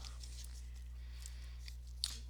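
Playing cards being shuffled by hand for a small homemade card-based fighting game, a few soft riffling bursts over a steady low hum, faint and close.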